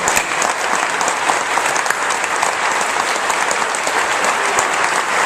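A crowd at a community women's awards ceremony gives sustained, loud applause, steady and dense throughout with no voices over it.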